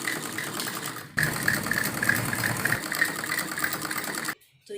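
Sewing machine running steadily while stitching one leg seam of a salwar, a continuous fast mechanical whir with a brief pause near the start and a stop just before the end, close and fairly loud with no talk.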